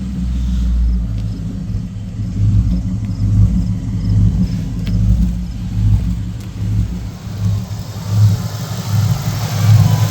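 A Mercury Marauder with a swapped SVT Terminator engine running on a dyno, a loud, steady, deep rumble that holds close throughout with slight surges.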